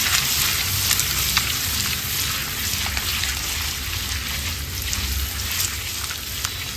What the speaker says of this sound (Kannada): ಮೊಟ್ಟೆ ಈ ರೀತಿ ಫ್ರೈ ಆಗುವಾಗ ಸ್ಟವ್ ಆಫ್ ಮಾಡ್ಕೊಳ್ಳೋಣ